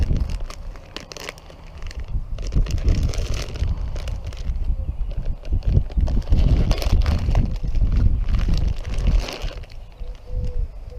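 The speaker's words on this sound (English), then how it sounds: "It's always a challenge working in the wind." Outdoor wind buffets the microphone in low, uneven rumbling gusts, mixed with crinkling plastic from a shiitake mushroom grow bag being handled nearby.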